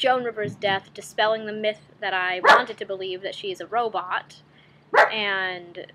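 Dog barks break in a few times, short and fairly close, between stretches of a person talking steadily.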